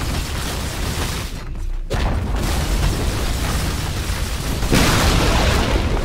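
Dota 2 tower being attacked and destroyed: a continuous dense rumble of booming impacts and bursts, briefly dropping out midway before resuming, with a louder crumbling burst near the end.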